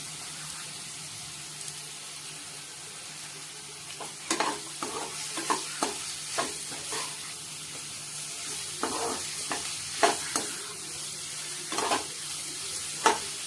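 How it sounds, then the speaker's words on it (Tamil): Close, irregular scraping and clicking of a spoon stirring turmeric into a thick ginger-garlic chicken marinade in a bowl, over a faint steady hum. "மஞ்சத்தூள் நல்லா மிக்ஸ் பண்ணியாச்சு"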